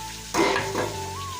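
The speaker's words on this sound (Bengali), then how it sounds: "মাছের ডিমটা ভাজার জন্য আমি কড়াইয়ে প্রথমে তেল দিয়ে দিলাম সর্ষের তেল কাঁচা লঙ্কা চিড়ে রাখা আর কেটে রাখা পেঁয়াজ দিয়ে" Slit green chillies and chopped onion hitting hot mustard oil in a wok, a sudden loud sizzle burst that settles into steady close crackling frying.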